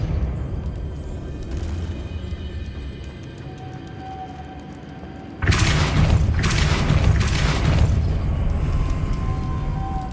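A Depulso spell is cast in Hogwarts Legacy, a sudden loud boom that bursts in midway and leaves a heavy rumbling wash over the quieter background.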